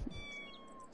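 A kitten in The Sims 4 game gives a short meow near the start, followed by soft game background sound with faint tonal chimes.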